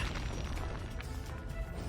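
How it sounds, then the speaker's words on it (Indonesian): A loud, dense crash of something hard being smashed, a sustained burst of noisy impact sound with no voices. "Orang ini pecahkan cangkang kura-kura jahat itu."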